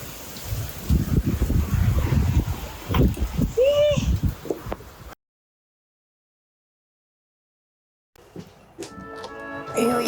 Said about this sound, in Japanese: すごい風ですよ。